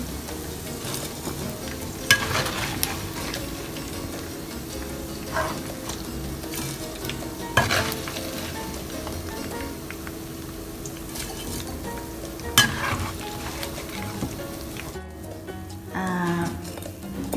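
Chicken wings fry in hot oil with a steady sizzle, broken by a few sharp clatters of stirring or turning in the pan near the mic, with no talking.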